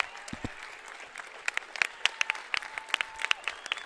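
Scattered applause breaks out in a high school boys basketball gym, individual claps popping sharply and irregularly over a faint crowd murmur, fairly distant and moderate in level.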